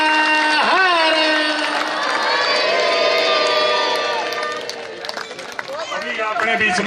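A village crowd cheers and shouts loudly and continuously to welcome visiting pandits, with voices rising and falling in a dense, sustained roar.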